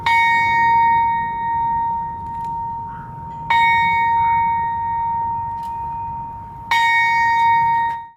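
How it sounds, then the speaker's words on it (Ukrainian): A large memorial bell tolls three times at slow, even intervals in Ivano-Frankivsk, each strike ringing out and sustaining over a low outdoor background hum. "З цієї нагоди в Івано-Франківську пролунав традиційний дзвін пам'яті"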